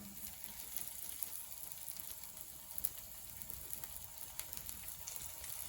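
Ragi adai frying in oil on a pan over a medium flame, a faint, steady sizzle with scattered small pops and crackles throughout, no voices.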